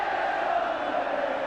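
Football crowd at a 1977 Sunderland versus Spurs match, a continuous massed roar of voices filling the stadium at a steady, loud level.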